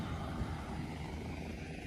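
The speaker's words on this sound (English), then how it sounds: "Helicopters everywhere." A steady, rumbling rotor and engine drone from helicopters passing overhead, loud and continuous with no voices.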